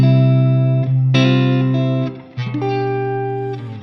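Sustained electric guitar chords ring out through a subtle shimmer reverb, with a soft octave-up glow trailing each strum; a few chord changes sound loud and close, with no talking.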